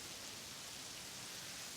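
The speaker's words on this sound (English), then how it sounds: "the rain is courtesy Werner Hanline and his special effects crew." Rain made by a film special effects crew falls as a steady, faint, even hiss with no voices.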